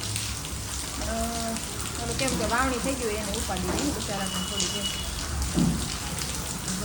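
Rain falls steadily as an even hiss throughout, with people talking over it.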